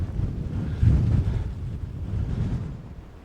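Strong wind buffets the microphone on the breezy summit of Sale Fell in the Lake District, a loud, low, rumbling roar that swells and eases without any speech.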